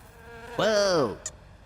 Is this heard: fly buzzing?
yes